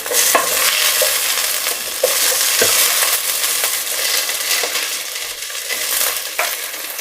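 Whole garlic cloves tumble into a pan of roasted red pepper soup ingredients, setting off a busy sizzle with stirring scrapes and a few sharp knocks, no talking.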